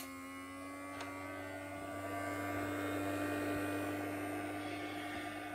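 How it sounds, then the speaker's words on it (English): A power supply cooling fan for an air pump drones on without change, a constant whirring tone with a faint buzzy edge, close by and moderately quiet. "The fan you hear is from the power supply."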